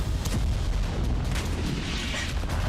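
Bombardment explosions over Gaza come as deep, continuous booming and rumbling with repeated heavy thuds, loud and sustained, with no voices.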